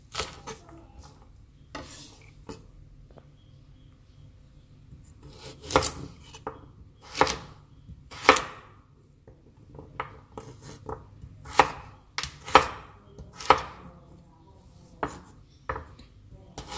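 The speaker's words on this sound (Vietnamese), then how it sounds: "Phần đậu đỗ này thì các bạn sẽ thái thành hạt lựu nhé." A knife dices green beans into small cubes on a cutting board, for a vegetarian braised shiitake dish in soy sauce, with sharp, close chopping taps in irregular bursts and no talk.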